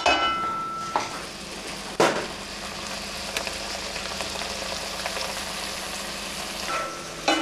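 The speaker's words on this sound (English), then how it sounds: "You see when it has a little sizzling sound and all the seasoning kind of melted?" Steady loud sizzling of seasoned vegetables for curry fills the whole stretch, with a few sharp clanks of a utensil against the pan cutting through.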